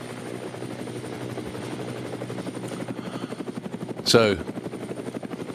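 Close helicopter rotor chopping in a fast, steady pulse, strongest in the second half, with someone talking over it and a brief sharp burst near the end.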